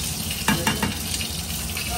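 Brinjal frying in oil in a pan, a steady close hiss of sizzling with a few soft stirring scrapes near the start.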